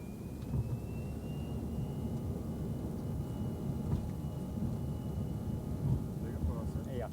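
A Boeing jet airliner takes off, giving a steady, loud, broadband low roar with a faint whine rising above it that keeps going without a break.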